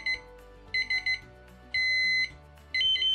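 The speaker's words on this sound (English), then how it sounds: "This is buzzer 6." An ifm signal lamp buzzer beeps in a patterned sequence: quick pulsed bursts, a long steady tone, then another pulsed burst, loud and close with no talk.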